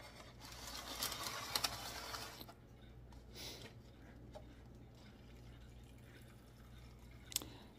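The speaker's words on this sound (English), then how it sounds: "And I'm getting these all watered." Potted plants are watered and the water soaks into dry soil. A soft spraying wash fills the first few seconds, then gives way to faint scattered drips and trickles, with one sharp tap near the end.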